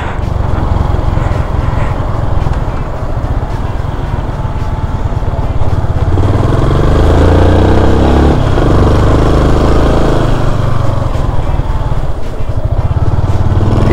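Honda NX500 motorcycle engine on a ride toward the border, a loud continuous low rumble mixed with heavy wind buffeting, holding steady with a slight rise in engine note midway.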